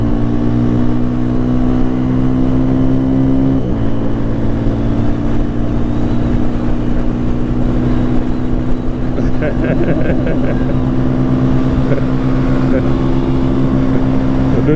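A Sonlink SL 150KD 150cc dual-sport motorcycle engine drones steadily and loudly up close, with a shift in pitch partway through as it accelerates, and the engine stays constant throughout.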